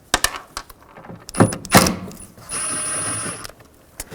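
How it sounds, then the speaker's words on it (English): Phillips screwdriver backing out taillight screws on a Chevy Avalanche, with scattered close metallic clicks and scrapes, a couple of louder rasping turns, and a sustained whirring squeak partway through. "Use a Phillips head screwdriver. Remove those screws."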